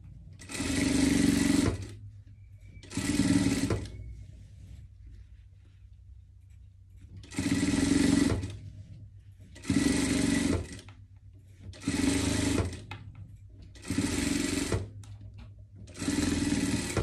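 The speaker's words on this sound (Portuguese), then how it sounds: "Rebatendo essa costura." Sewing machine topstitching a seam on surgical scrubs, running in seven distinct bursts of steady whirring stitching, each about one to two seconds long, separated by short quiet pauses, close and clear with no talk.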